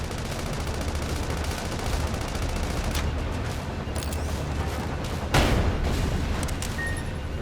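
Gunfire in the video game Sand Land, a dense continuous rattle of shots and blasts across the whole stretch with a sharper burst near the end, loud and with no talking.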